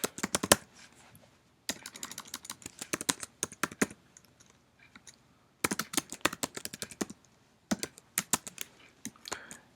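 Fingers typing on a computer keyboard in quick bursts of crisp clicking keystrokes, with short pauses between runs, close and alone.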